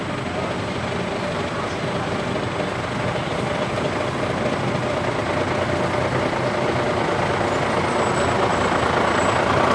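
A 1964 Foden S21 eight-wheel recovery truck with a Mickey Mouse cab passes in a parade, a steady diesel drone and rumble that swells gradually toward the end.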